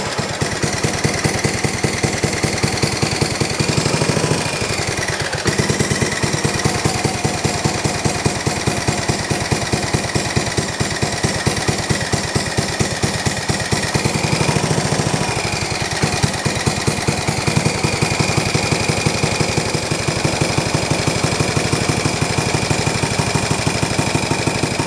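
A John Deere 112 lawn tractor engine with a freshly replaced head gasket runs steadily and loudly up close, a dense, even chug that surges briefly twice as it is adjusted.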